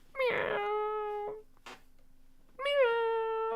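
A cat lets out two drawn-out, clear meows, the first long and wavering and the second rising then falling, with a short pause between them.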